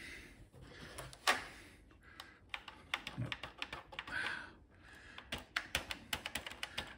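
Keys on a Tesla PMD 85-2A computer keyboard, many of them stuck, pressed one by one in close, uneven taps and clacks with brief pauses and a few louder knocks.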